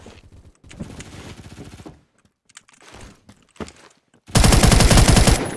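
Bursts of rapid automatic fire from a Type 20 gun in the Phantom Forces video game, several short volleys followed by a loud sustained burst at the end.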